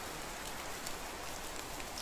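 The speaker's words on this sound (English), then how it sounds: "it's a rainy fall" Steady rain falls in the medieval survival game Medieval Dynasty, a soft continuous hiss of drops on surfaces with no voices, even and unbroken throughout.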